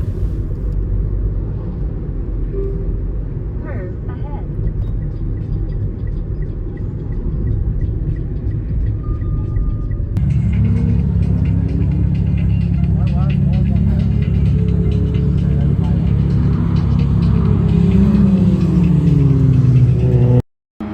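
Cars drifting at a Mobara Circuit drift day in Japan, with a continuous loud engine rumble and rising, revving drone that grows fuller partway through.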